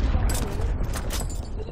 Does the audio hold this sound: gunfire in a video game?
yes